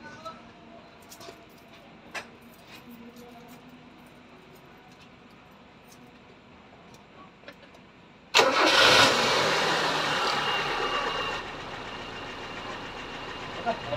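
Mazda 323 Astina with a newly rebuilt carburetor, after quiet clicks and background sounds the engine cranks and catches abruptly, roaring loudly and steadily before settling to a lower idle.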